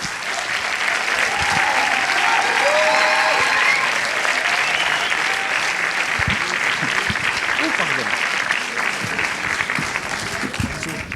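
Loud, sustained applause from a cinema audience before a special film screening, a dense continuous roar of clapping lasting the whole stretch, with a few voices and cheers rising within it.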